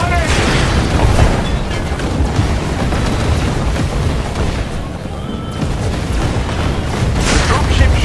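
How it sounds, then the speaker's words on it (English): Artillery shells exploding around an armored suit during a chase in Marvel's Avengers, dense continuous rumbling booms and bursts that keep up loudly throughout, with a voice speaking briefly over the noise. "Their artillery's targeting you. Incoming."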